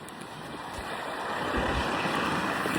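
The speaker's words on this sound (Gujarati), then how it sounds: "બહુ જ પવન છે." Strong wind blowing outdoors on a UK street while waiting at a bus stop, a steady broadband rush that swells slightly louder toward the end, with no talk.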